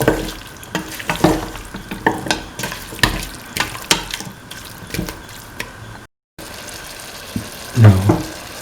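Beef and other stew ingredients with potato being stirred in a pot, a series of loud scraping, clattering strokes of the spoon with a soft sizzle beneath, pausing briefly near the end before more stirring.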